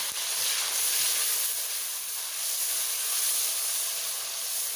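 Tomatoes sizzling in a pan with browned onions, a steady broad hiss of frying that holds evenly throughout with no voices.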